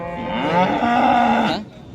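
A large cow at the Modnimb cattle market gives one long, loud, close moo that rises and then falls away, with no talk over it.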